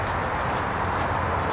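Hooves of a five-year-old Friesian horse step during groundwork training, a soft steady clop muffled under a continuous broadband noise, without voices.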